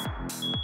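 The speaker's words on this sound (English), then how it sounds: "Is that the fire alarm?" A fire alarm goes off inside a giant cardboard house, sounding two loud electronic beeps on a steady high pitch with a short gap between them and no voices.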